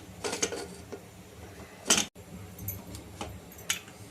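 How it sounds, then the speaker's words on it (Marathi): Metallic clicks, scrapes and a sharp clunk as a pressure cooker lid is twisted and locked into place, close by and fairly quiet. "आता आपण कुकरचं झाकण लावून घेऊया।"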